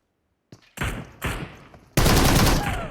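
Gunfire in PUBG Mobile: a couple of sharp shots, then a loud burst and a heavier sustained volley at the end, close and punchy, with no talking.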